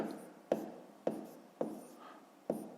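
Pen or chalk writing out a fifth-grade math expression, four short sharp strokes tapping at a steady, even pace, close and fairly quiet with soft rubbing between them and no talk.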